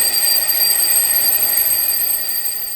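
An alarm clock rings in the morning, a continuous shrill high-pitched electronic ringing that stays loud and steady throughout, with no voices.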